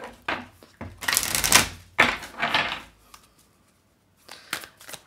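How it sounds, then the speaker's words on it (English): Several quick bursts of tarot cards being riffled and shuffled, crisp and close, with short pauses between them and a brief quiet gap near the end. "we'll do one quick shuffle"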